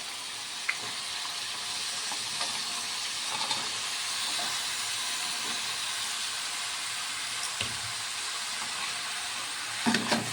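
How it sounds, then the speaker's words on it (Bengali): Pre-cut ash gourd pieces go into a hot pan with tomatoes for a shrimp dish, giving a steady broadband sizzle and hiss that lasts throughout, with a few faint clinks and scrapes near the end and no talking. "এইবারে আগে থাকতে কেটে রাখা চাল কুমড়োগুলো আমি দিয়ে দিচ্ছি।"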